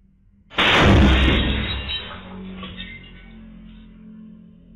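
A single loud bomb explosion bursts suddenly inside a meatball shop, then a rumbling debris-filled tail fades slowly over several seconds with no talking.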